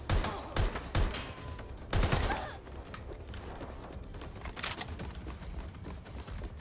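AK rifle gunfire in Watch Dogs: Legion, a few sharp loud bursts of shots near the start and again around the middle and later, separated by quieter rumbling game background.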